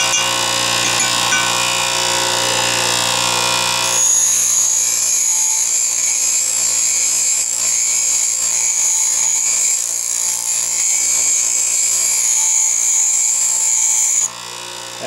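A coarse grinding wheel grinds a lathe threading tool as it is worked back and forth across the wheel, giving a harsh, steady, close-up grinding whine that shifts in tone partway through and eases near the end.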